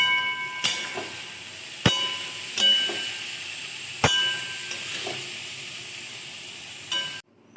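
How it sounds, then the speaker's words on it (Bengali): Chira polao ingredients are stirred together in a pan, with a soft continuous sizzle and hiss under several sharp metallic clinks of a spoon striking the pan, close by. "এইবার এগুলো সব একসঙ্গে ভালো করে নাড়বো"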